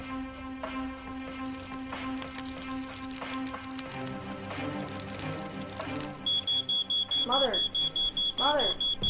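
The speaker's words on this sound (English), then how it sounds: "Mother, why is the alarm going off?" A home smoke alarm goes off after a cooking fire with chicken, beeping in a rapid steady loud pattern through the second half, while voices talk underneath.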